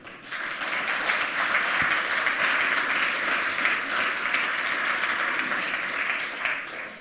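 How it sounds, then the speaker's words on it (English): Warm applause from a conference audience welcoming a speaker at a 27c3 hacker congress talk, steady dense clapping filling the room for about seven seconds without speech. "please give him a warm round of applause"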